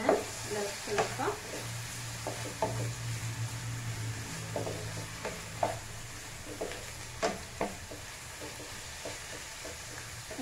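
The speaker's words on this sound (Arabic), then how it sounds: "غادي نخليه تيتقلى مزيان" Vegetables for spaghetti frying in a pan: a steady sizzle with repeated stirring clatters and scrapes, fairly close, running continuously under occasional soft background noise.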